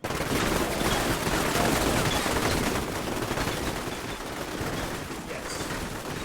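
Dense gunfire from the video game Killing Time rattles continuously for the whole stretch, loud and sustained like overlapping bursts of automatic weapons with no pauses.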